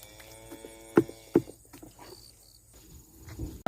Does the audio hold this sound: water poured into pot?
no